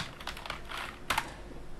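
A few quick keystrokes on a computer keyboard while working in an Excel spreadsheet, light clicky taps close to the microphone over a faint steady hiss.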